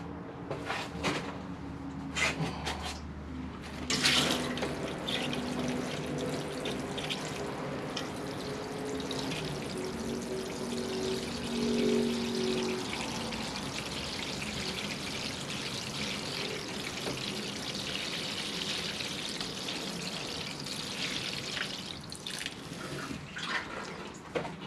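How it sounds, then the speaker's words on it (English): Water poured onto potted Portulacaria afra bonsai plants: a continuous splashing trickle runs for the whole stretch, steady and fairly close, with no talking over it. "We'll water these together."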